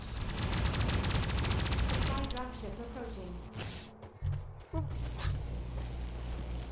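Laser weapons fire in the video game Guardians Frontline as rapid bursts of zapping shots and crackling impacts, with a voice talking over part of the action.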